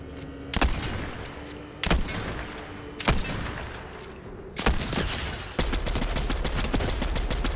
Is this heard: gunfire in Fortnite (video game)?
yes